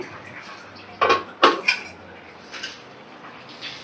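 A metal lid is lifted off a cooking pot of vegetarian eggplant and papad dalna on medium flame, giving two sharp clanks close together, followed by faint clinks and a low background hiss.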